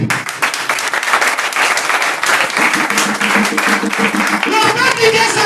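A church congregation applauding during a service, a dense sustained roar of clapping that fills the whole stretch, with singing or voices mixed in toward the end.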